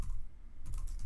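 Quick keystrokes on a computer keyboard while entering a command into a network switch interface, a short run of close, light clicks.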